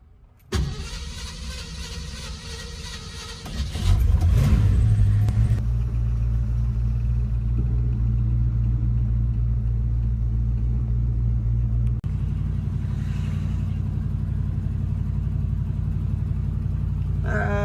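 The car nicknamed Old Blue cranks briefly, catches and settles into a steady, loud, close idle rumble that holds on alone to the end.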